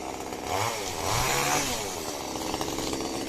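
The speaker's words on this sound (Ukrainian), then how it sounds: "Добре, трохи бензопилки там." A chainsaw cutting apricot tree branches, close and loud, its engine whining and rising in pitch as the chain bites into the wood, continuous throughout.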